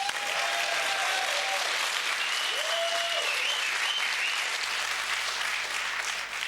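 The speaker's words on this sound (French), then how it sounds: "Ah bravo, ça s'applaudit." A studio audience at a Belgian game show applauds in a sustained wash of clapping, with faint tonal sounds drifting underneath.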